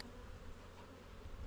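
Honeybees buzz in a dense, continuous drone inside a beehive, close and steady.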